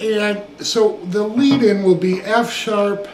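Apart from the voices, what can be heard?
No everyday noise stands out behind the speech.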